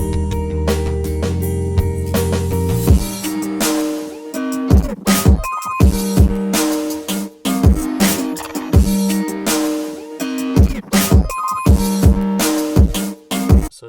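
A stripped-back hyperpop beat arrangement for a track, with the melody and bass pulled out and an open hi-hat from the hook. Loud, dense drum hits with pitched synth stabs and choppy gaps play alone.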